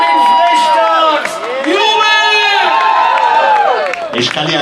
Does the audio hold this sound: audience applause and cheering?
yes